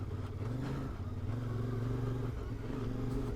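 CFMOTO Ibex 450 motorcycle riding a damp dirt trail, its engine droning steadily up close with harmonic tones rising slightly as it holds revs, alongside faint clatter, loud and continuous with no talking.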